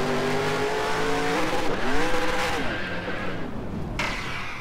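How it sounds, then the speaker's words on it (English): A NASCAR stock car in NASCAR Racing 2003 at Watkins Glen spins with a revving engine and squealing tires, then slams almost head-on into the wall with a sharp impact near the end, loud and close. "Spun a little too fast that time. Hit the wall almost head on."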